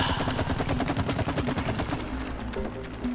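Rapid, rhythmic automatic gunfire from the It Takes Two video game, loud and close, rattling steadily for about two seconds before thinning into scattered game noise.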